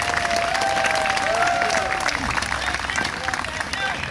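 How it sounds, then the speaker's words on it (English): Fans at an outdoor charity softball event clap and cheer in a sustained round of applause, a broad crowd sound with scattered voices and whoops mixed in. "Give yourselves a nice round of applause."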